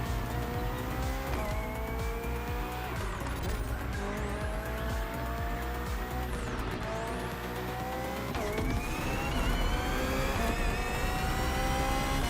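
A BMW hybrid V8 race car in The Crew Motorfest roars at high revs, with rising and falling gear-shift sweeps, tire squeal and skidding through a steady, loud, continuous run.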